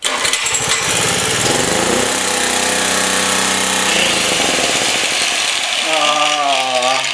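A Generac G-850 portable generator with a Kawasaki engine, choked at start-up, runs with a loud, rough, rattling small-engine drone whose pitch shifts and settles toward the end; a voice may be faintly present.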